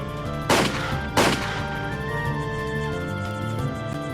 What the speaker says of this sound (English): That was the first time in my life I heard an actual gunshot.